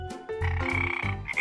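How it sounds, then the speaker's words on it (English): Frogs croak in short, throaty bursts, several overlapping calls in quick rhythm, close and clear, with no voices. "7 frogs."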